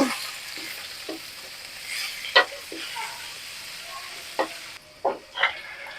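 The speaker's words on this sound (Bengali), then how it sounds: "মাছ দিয়ে দিয়েছি এখানকে নাড়িয়ে দেব" Bele fish (sand goby) frying in a pan, with a soft sizzle under scattered scraping stirs and a few sharp clinks of a utensil against the pan.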